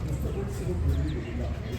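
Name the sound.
pigeons cooing at a pet show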